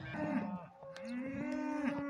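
Cattle mooing on a farm after being separated from their calves during handling; several loud, drawn-out moos overlap and follow one another steadily, close by, with no talk.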